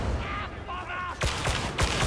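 Enemy sniper fire in Darktide rings out as a few sharp, loud cracks in the second half, coming over game ambience and talking voices.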